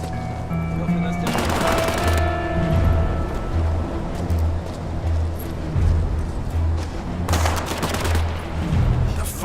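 Gunfire in the video game War Mongrels: two loud, dense bursts of automatic fire about six seconds apart over a low rumbling, pulsing background.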